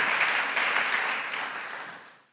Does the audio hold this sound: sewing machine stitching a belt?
no